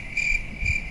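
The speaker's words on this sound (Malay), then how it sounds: "Riang-riang" A cicada drones with a steady, shrill buzz that pulses slightly in loudness over about a second, alone without any talking.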